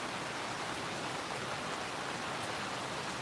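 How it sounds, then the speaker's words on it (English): Heavy rain pours steadily in Ashmore, a dense, even hiss of falling water that holds at full strength throughout, close by and with no voices over it. "we are getting a bit of rain today"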